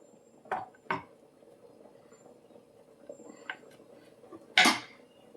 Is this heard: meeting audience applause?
no